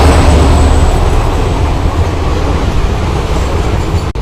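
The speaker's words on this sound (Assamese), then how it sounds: "এয়া দেখিবলৈ পাইছে ট্ৰেইনখন আহিছে।" A train rumbles loudly past a railway level crossing gate in India, a close, continuous roar of wagons and rail noise with a faint high whine throughout and no talk.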